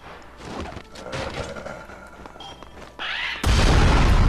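A propane tank explodes in the Dead Rising video game, a loud sudden boom that bursts in near the end and stays loud, after a stretch of busy game noise.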